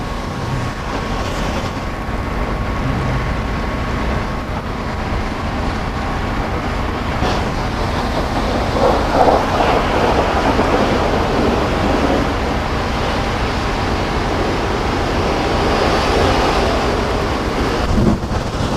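Mobile power washer triggered repeatedly to push antifreeze into its bypass line, giving a steady, loud, broadband rush of pump and spray that runs unbroken for the whole stretch without speech.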